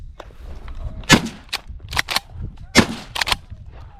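An Adler B220 air rifle fired outdoors at a fox gives several sharp, close cracks, with a few dull clicks and handling noise between shots and no talk.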